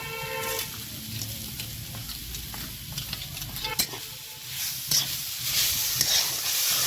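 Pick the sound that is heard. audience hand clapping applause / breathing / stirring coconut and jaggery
stirring coconut and jaggery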